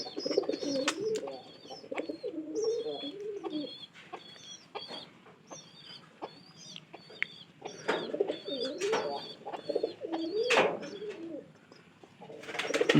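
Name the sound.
baby pigeons cooing while feeding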